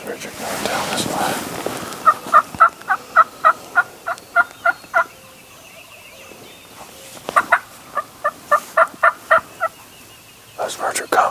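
Wild turkeys gobble in two loud bursts of rapid, rattling calls, separated by a short lull, with the birds sounding fairly close.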